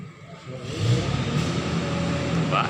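A small engine revs steadily and loudly while hauling a big crate, a continuous mid-pitched drone with a slight rise and whir, heard close up throughout.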